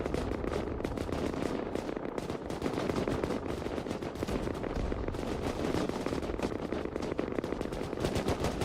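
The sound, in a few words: gunfire during naval battle in the video game Rust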